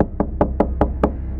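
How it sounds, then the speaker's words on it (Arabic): A series of six evenly spaced, sharp knocks on a door, each about a fifth of a second apart, close and clear against a quiet background. "خبط الباب، مفيش رد."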